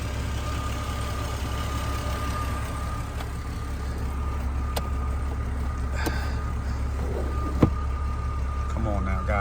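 A 2000 Jeep Cherokee XJ with 57K miles drives along, its engine and road noise a steady, fairly loud drone throughout, with a few brief knocks and clicks near the end.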